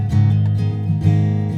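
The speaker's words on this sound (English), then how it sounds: "Guitar sounds like this." An acoustic guitar captured on lavalier mics with no EQ applied is strummed close up in a few quick, full strokes, sounding warm and heavy in the low end.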